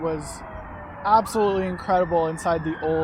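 Emergency vehicle sirens wail and pass nearby in a town while someone talks over them, the tone sliding steadily beneath his voice throughout.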